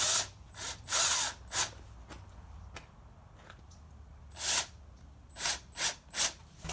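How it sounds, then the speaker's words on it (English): Power drill pre-drilling holes in wood while a sliding glass door is installed, heard as several short close whirring bursts separated by pauses, with no talk. "pre-drill these holes, so you don't have to work upside down"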